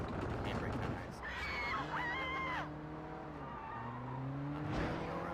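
A car in the open-world game Sleeping Dogs skidding under handbrake, engine droning steadily with tire squeal rising and sliding in long screeching streaks, over continuous game noise with a voice talking.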